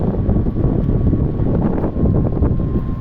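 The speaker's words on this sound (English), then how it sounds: "It is the cold wind blowing into my face." Cold winter wind roars across the microphone during an e-motorcycle ride, a loud, constant buffeting rush that fills the whole clip, with no voices.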